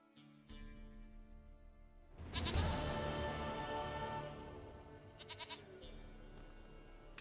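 A goat bleats in The Witcher 3: Wild Hunt, a wavering cry rising over quiet game music and fading into a softer tail.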